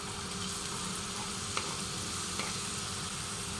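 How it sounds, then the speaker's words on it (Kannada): Chopped onion frying in hot oil in a kadai gives a steady, even sizzle with a faint stir or scrape now and then, close by and heard alone without talk. "ಸ್ವಲ್ಪ ಎಣ್ಣೆ ಬಿಸಿ ಆಗ್ತಿದ್ದಾಗೆ ಒಂದು ಈರುಳ್ಳಿಯನ್ನು ಹಚ್ಚಿ ಹಾಕ್ಕೊಳ್ತಾ ಇದ್ದೀನಿ."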